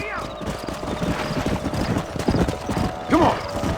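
Hooves clip-clop steadily on the ground in a Western open-world video game, with horses snorting and one whinnying near the end, all layered under ambient game sound and a passing voice.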